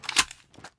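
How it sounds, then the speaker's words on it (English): A gun magazine being reloaded in Call of Duty Mobile multiplayer: a quick pair of sharp metallic clicks and clacks, close and crisp, followed by a second lighter click. "Changing mag."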